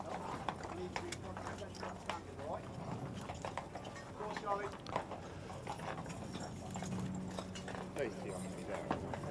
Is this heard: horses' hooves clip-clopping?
yes